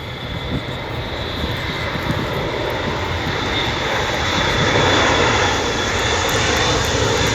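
Piper aircraft engine powering up for a go-around, heard from inside the plane: a loud, steady propeller-engine drone that builds slightly in strength and holds throughout, with no talk.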